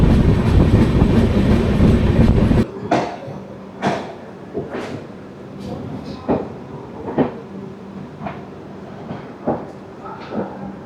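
Shatabdi Express passenger train running on rails in India, with a loud rushing roar that gives way to a steady series of sharp clickety-clack wheel impacts over rail joints, heard close from inside the coach.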